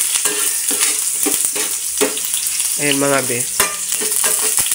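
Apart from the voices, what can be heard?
stirring ginger frying in a pan for squid adobo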